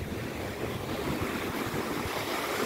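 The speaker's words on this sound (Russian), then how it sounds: "А ну вот под шум океана" Steady ocean surf washes onto the shore in a broad, even hiss with soft low rumbling and some wind noise, with no voices.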